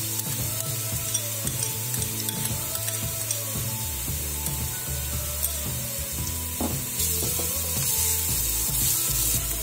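Garlic sizzles in a hot pan after golden onions are browned, steady frying crackle with scraping stir strokes throughout, close and fairly loud, no voices.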